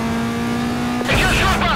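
Cars race past in Need for Speed Most Wanted (2005), a steady engine drone giving way to a sudden loud whoosh of several vehicles shooting by up close, with a brief engine roar and tire noise.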